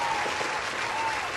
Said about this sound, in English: We finally get applause.